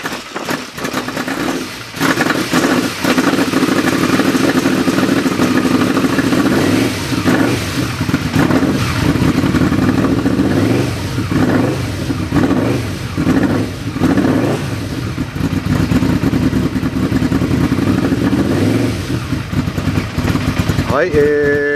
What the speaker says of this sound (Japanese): アクセルを上げて回転数を回すと14ボルトとか上がります。